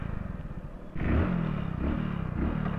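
Hero Splendor Plus motorcycle pulling away in first gear on a city road, with a steady close engine note that rises in loudness as it accelerates.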